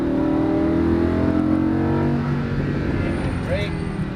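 A Lamborghini Huracan accelerating on a race track during a track day, its engine a loud, sustained, rising drone heard from inside the car, with a voice speaking over it.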